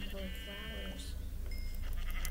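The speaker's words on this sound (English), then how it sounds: "There is a full sheep here." Blocky Minecraft sheep bleat in a couple of short wavering cries over a steady game background, with a player's voice talking around them.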